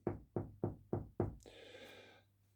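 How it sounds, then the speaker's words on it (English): Five evenly spaced knocks land on a wooden door, fairly close and moderately loud, followed by a brief rustling, clattering sound before things go quiet. "He knocks on the door"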